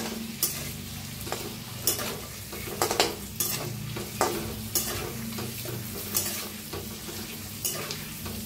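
Masala eggs seasoned with turmeric, red chilli and salt being stirred in an oily pan, a continuous sizzle under regular scraping and clinking strokes of a utensil, paced about once a second, with a low hum beneath.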